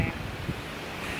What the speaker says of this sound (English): it's quite windy here right now